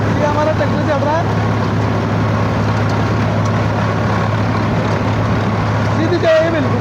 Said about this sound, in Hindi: ये हमारा ट्रैक्टर चल रहा है